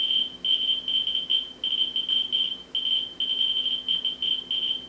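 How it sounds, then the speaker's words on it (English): A Geiger counter beeps rapidly in quick irregular high-pitched bursts near radioactive uranium glass dishes, continuous with brief gaps, against a steady low hum. "you can hear all the beeping there from the counter"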